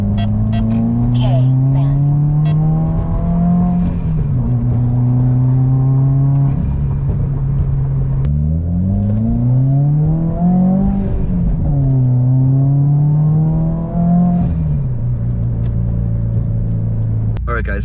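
Modified Subaru WRX heard from inside while driving, its engine drone rising and falling through gear changes with throttle surges, exhaust burble and induction whoosh, loud and close throughout.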